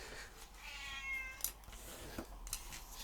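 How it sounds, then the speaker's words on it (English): A cat meows indoors, giving one drawn-out, rising meow followed by a few faint clicks and small knocks nearby. "Listen to that cat."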